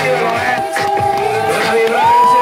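Crowd at a ski show in Sappada cheering and whooping, loud sustained shouts and yells from many voices with a held call rising near the end, close and dense.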